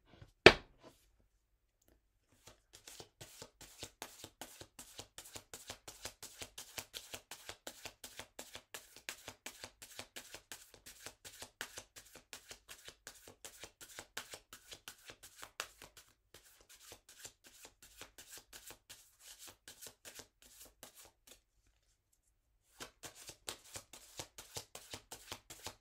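Tarot cards shuffled by hand, a long run of rapid, soft riffling flicks with a brief pause near the end before the shuffling resumes, quiet and close.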